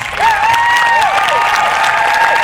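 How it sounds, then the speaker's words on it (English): Audience at an awards ceremony applauding steadily, a dense clapping wash with a few whoops or whistles rising above it, loud and close throughout. "I hope you're ready to continue applauding"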